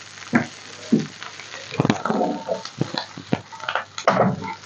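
Chicken fried rice gets stirred and tossed in a frying pan, with irregular scraping and clattering strokes of the spatula over a faint sizzle, close and moderately loud.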